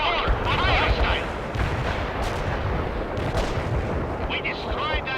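Missile launches and artillery fire in the real-time strategy game World in Conflict form a dense barrage of booming blasts and whooshing rocket streaks, loud and continuous, with several sharp launches standing out.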